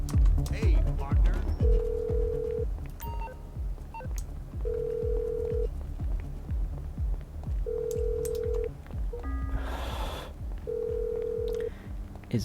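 A telephone rings inside a video game, a steady electronic ring repeating in regular bursts about every three seconds over a low rumbling game soundscape, with a brief clattering noise partway through.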